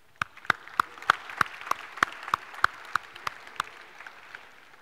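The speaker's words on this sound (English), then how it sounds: "Give yourselves a little round of applause here." Students in a university computer science lecture hall give a small round of applause, heard as about a dozen distinct, evenly spaced claps that stand out sharply against a quieter room and fade toward the end.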